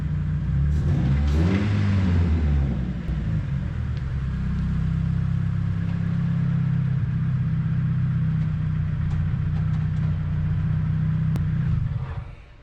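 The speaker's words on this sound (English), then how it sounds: "The motor sounds good to me" A first-generation Dodge Neon engine, run for the first time after sitting fifteen years, revs up and down at the start and then settles into a steady, loud, close idle before cutting off.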